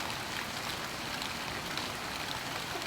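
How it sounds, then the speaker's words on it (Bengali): Heavy rain pours down in a steady, dense hiss that runs unbroken throughout, with no voices. "এত এত প্রচণ্ড বৃষ্টি, এত প্রচুর বৃষ্টি"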